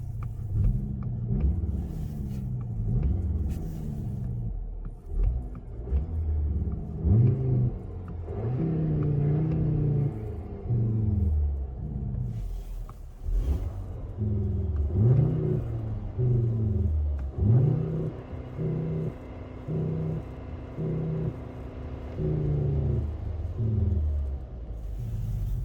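Inside a Skoda Kodiaq RS 2.0 TSI car in sport mode, an artificial engine note resembling an inline-five mixed with a Subaru boxer drones and rises and falls with revving, a low rumble steady throughout with no talking.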